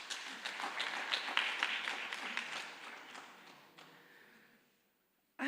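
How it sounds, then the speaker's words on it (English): Audience at a journalism school symposium clapping together, dense and lively at first, then thinning and fading to near silence before a sudden burst of sound at the very end. "Let's clap for them."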